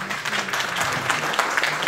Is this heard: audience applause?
yes